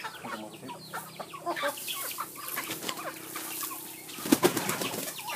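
Several chickens cluck and chatter continuously on a farm in Bamban, with a brief flurry of wing flapping near the end.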